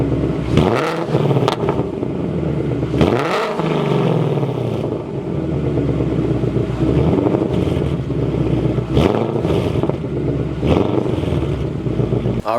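A 2019-or-later Ford Mustang GT with newly installed headers, warmed up, revs repeatedly in short loud bursts that rise and fall back to a rumbling idle, with some wind buffeting the microphone.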